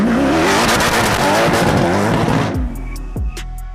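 A manual-transmission Koenigsegg CCX does a burnout in a parking lot, its engine roaring loud and close while the tires squeal, then the revs drop and a few short blips trail off.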